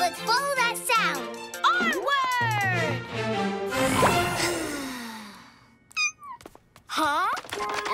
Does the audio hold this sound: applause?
no